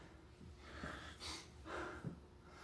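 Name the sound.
heavy breathing during workout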